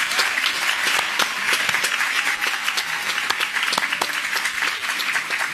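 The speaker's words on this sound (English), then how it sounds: "I want you to give a loud round of applause for all those people that make the effort to gather with us on Skype" Congregation applauding at a Sabbath service at the Great House of Yahweh in Abilene, a steady burst of clapping with crisp individual claps standing out, fairly close and even throughout.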